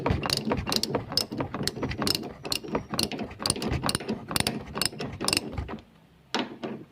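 A 14mm socket wrench ratchets loose a rear shock absorber bolt on a Toyota Vios, giving rapid, close, metallic clicking in repeated strokes with a short pause before a final few clicks.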